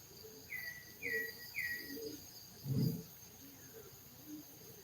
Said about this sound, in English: Nothing but birds, bugs, and lizards making noise.